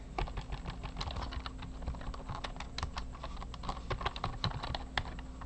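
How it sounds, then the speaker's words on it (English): Rapid, uneven clicking of keys on a computer keyboard as someone types steadily, close to the microphone, with no voices. "while I'm typing this out"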